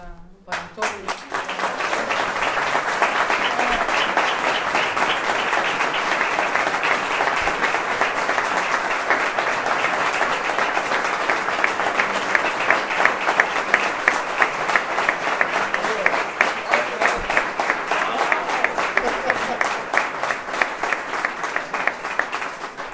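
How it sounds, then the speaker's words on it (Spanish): Sustained applause from an audience at a flamenco matinee in Córdoba, dense steady clapping that swells slightly and holds for over twenty seconds with a faint murmur of voices beneath. "quisiera pedir un fuerte aplauso"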